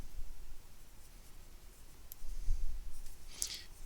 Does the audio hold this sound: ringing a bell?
no